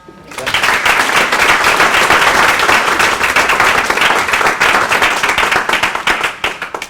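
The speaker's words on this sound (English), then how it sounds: "I think round of applause" Loud applause from an audience at a workplace improvement report-out in Leeds, many hands clapping close and steady for several seconds before tapering off.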